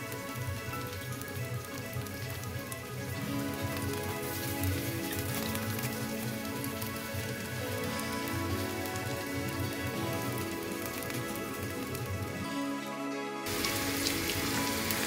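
Chicken gola kebabs sizzle steadily in hot oil, a continuous crackling hiss at moderate level with no talking, briefly shifting near the end.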